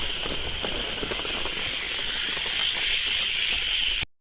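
Steady rain pours down in a village during a day of fishing, a dense, loud, continuous patter on surfaces close by, with no talk before it cuts off.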